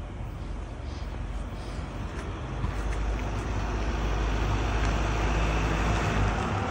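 A car passes on a road outside, its steady broadband engine and tyre rumble swelling slightly as it goes by, with continuous traffic noise and no voices.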